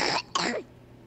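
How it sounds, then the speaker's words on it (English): A person gives two quick, close coughs in rapid succession, loud and harsh, followed by a short pause. "You just coughed."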